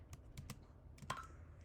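Quiet keystrokes on a computer keyboard while a Python command is typed, a handful of quick, soft clicks in an uneven rhythm, close and alone.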